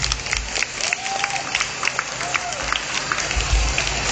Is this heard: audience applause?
yes